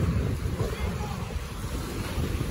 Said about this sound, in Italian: c'è un po' di vento, dovremmo mettere i pesi